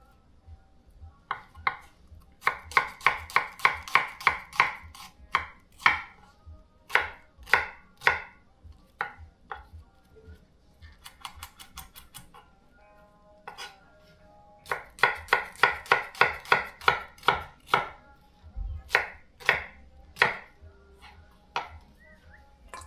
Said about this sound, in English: slice our onion.